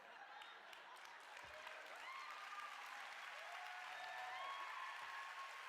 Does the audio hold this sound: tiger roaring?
no